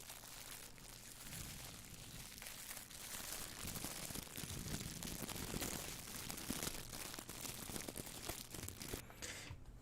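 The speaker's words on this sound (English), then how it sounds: "That sounded super crinkly, isn't it?" Dense, close crinkling and crackling, like plastic or paper being handled for an ASMR recording, goes on steadily and softly for about ten seconds with no voice.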